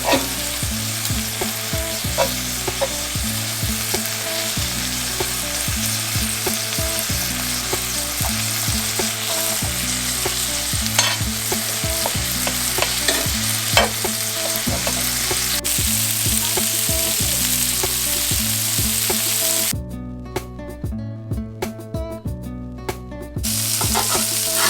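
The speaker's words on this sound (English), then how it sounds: "You want to cook your French toast on medium heat." French toast sizzling in a pan over medium heat, a steady loud crackle and hiss that runs throughout, with music layered underneath and a brief lull near the end, no talking.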